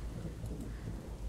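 Storm thunder rumbles in the video game Vernon's Legacy, a low, rolling boom under steady rain hiss, fairly faint and continuous throughout.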